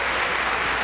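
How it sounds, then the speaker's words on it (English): Concert hall audience bursting into loud, dense applause after the closing chords of Beethoven's Ninth Symphony performed by the NBC Symphony Orchestra in a 1948 recording, a continuous roar of many hands clapping. "our audience, as you can hear, and some of you see, has sprung into instant and enthusiastic applause"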